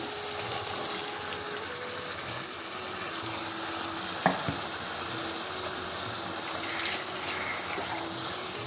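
Steady, close sizzling of a Kerala-style prawn curry in a hot pan as ground paste is added, with a couple of brief utensil clinks partway through and no voices.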